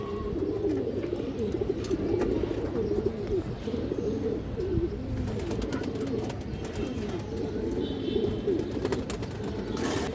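A flock of pigeons coos at a pigeon farm loft, including a large female silver-necked pigeon, in a dense, continuous, fairly loud murmur of overlapping calls with no pauses.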